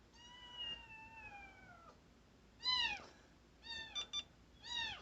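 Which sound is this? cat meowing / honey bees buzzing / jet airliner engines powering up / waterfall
cat meowing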